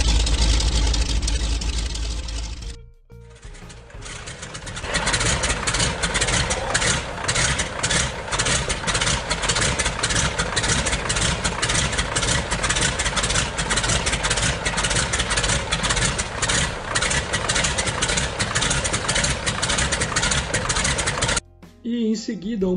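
An animated radial aircraft engine runs with a steady, fast, rhythmic chugging drone that holds at an even level for almost twenty seconds before cutting off abruptly.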